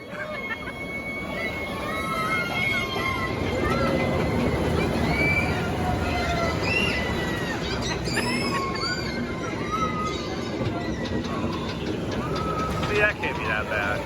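A ride on the Flying Ace Aerial Chase kiddie roller coaster at Kings Island: a steady rumble of the train on its track under distant crowd chatter, shrieks and whistle-like squeals, with some people talking.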